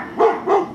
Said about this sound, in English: now all three dogs are barking